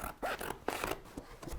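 Sharp scissors snip through a cardboard circle in a few quick, crisp cuts with brief pauses between, close by and with no talking.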